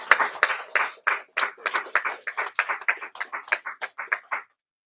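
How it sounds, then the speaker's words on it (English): Steady applause from a small group at a sheriff's live press conference about a captured suspect, with distinct hand claps in a loose rhythm over about four and a half seconds, fairly close, then stopping abruptly. "So I would like to applaud them."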